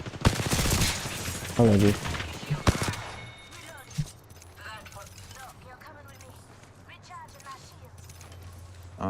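Rapid bursts of video game gunfire shoot at a fence in the opening seconds, loud and dense. Afterward the shooting fades into quieter game ambience, and people talk over it.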